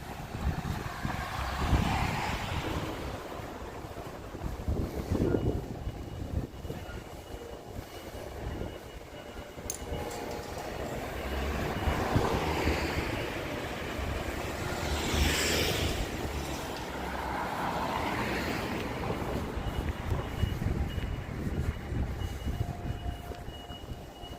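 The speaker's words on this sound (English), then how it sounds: "Weak signal and extremely windy." Strong wind gusts buffet the microphone on a Tokyo street, making a steady low roar that swells and fades in waves, with distant traffic rumbling underneath.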